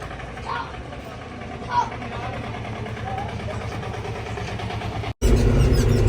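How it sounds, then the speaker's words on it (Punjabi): A tractor in a Republic Day tractor protest march at Talwandi Bhai, Ferozepur, runs with a steady low engine drone beneath voices, growing louder and fuller near the end as it comes closer. "ਇੱਕ ਟਰੈਕਟਰ ਉਹ ਆਉਂਦਾ ਪਿਆ"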